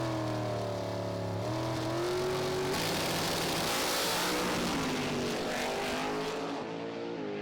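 Two drag racing cars, Andres Arnover against Dutchman David Vegter in a semifinal, roar down the strip at around 400 km/h, engines screaming loudly and continuously with a rising, rasping blast through the run.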